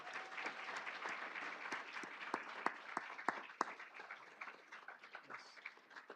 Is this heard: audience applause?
yes